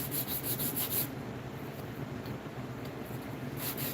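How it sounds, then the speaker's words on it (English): Wood being hand sanded with 225-grit paper to remove registration marks on a pendant box: a continuous soft, close rasping rub with a brief brighter scratchy stretch at the start and end. "We just erase them by sanding them out."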